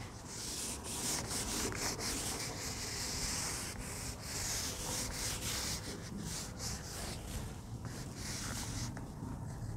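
A teacher rubs out writing on a classroom board during a biology lesson, a steady dry scrubbing and swishing that runs continuously and fairly close with short strokes, no talking over it.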